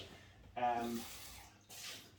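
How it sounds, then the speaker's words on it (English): Clean rinse water pours through a Pinter beer dispenser in two quiet bursts of hissing flow, the first longer than the second, with a voice talking faintly at times. "So that's just the first little bit of water, just water, because I always rinse it through"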